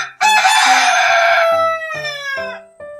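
A rooster on a farm crows once, loud and close, a long strained cock-a-doodle-doo that trails off into a few shorter broken notes, heard alone without talk.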